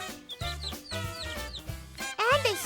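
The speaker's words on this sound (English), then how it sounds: "Some baby chickens stopped by. Baby chickens are called chicks." Baby chicks give a run of high, bright peeping and clucking calls, several in quick succession and fairly close, over a steady low musical backing.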